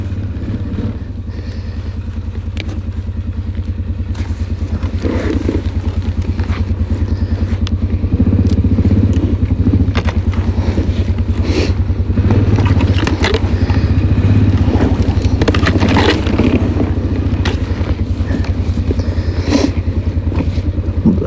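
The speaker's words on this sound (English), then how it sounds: "you don't even have to get off the throttle and shift it into second" A Honda Rincon 650 ATV engine runs steadily while riding through snow and shifting gears. It is a loud, continuous, close drone that swells with throttle partway through, with clattering under it and no talk.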